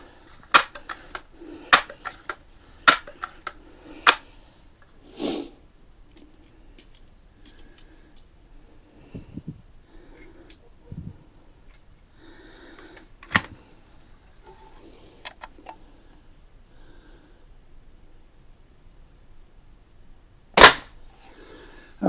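Rifle gunshots at an outdoor target range with an 1866 lever-action rifle: several sharp, distant cracks spaced a few seconds apart, with a louder report near the end, over quiet background with faint birdsong.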